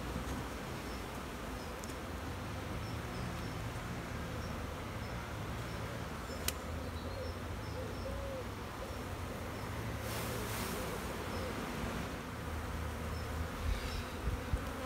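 Honeybees hum steadily in a low, continuous drone around an open hive during an inspection, with a few brief clicks and rustles over the buzzing.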